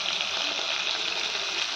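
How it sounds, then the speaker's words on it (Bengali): Bhola fish frying in a pan in a Bengali village kitchen, a continuous close sizzle that holds steady with no talking over it. "এটা ভাজা হোক আগে"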